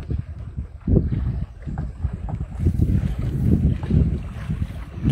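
An engine-powered boat travels through flood water, its low motor rumble and splashing mixed with wind buffeting the microphone, steady and fairly loud throughout.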